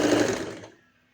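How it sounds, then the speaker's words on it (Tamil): Sewing machine stitching a folded fabric strip for a pant bottom, one short close whirring burst that quickly winds down to silence. "ஸ்ட்ரிப்பை நான் 2ஆக மடித்து தைக்கிறேன்"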